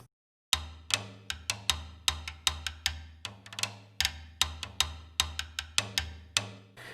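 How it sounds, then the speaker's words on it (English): Sharp wooden clicks struck on a drum rim in an irregular, improvised rhythm over a steady low drum groove, close and crisp. "a little improvisation on the rim of the drum,"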